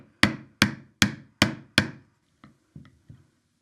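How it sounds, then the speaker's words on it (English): A hammer strikes a homemade wire ornament hook to straighten it, five sharp evenly spaced metallic whacks followed by three lighter, quieter taps, each ringing briefly and close up. "I'm going to go back in, just give it another couple of whacks"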